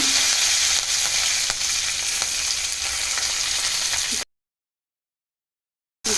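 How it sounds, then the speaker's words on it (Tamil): Mustard seeds spluttering in a little hot oil for a carrot stir-fry, a loud, close crackling sizzle with small pops lasting about four seconds before cutting to silence. "கொஞ்சம் கடுகு கடுகு பொறிஞ்சிடும்"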